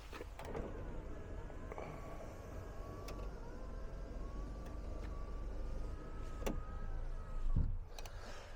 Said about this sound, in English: make sure all the windows are done up